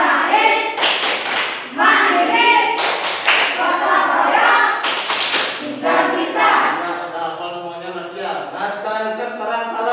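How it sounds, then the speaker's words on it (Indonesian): A class of students performs the PPK clapping chant, loud rhythmic group hand claps in bursts alongside shouted chanting voices. "coba lagi tepuk PPK"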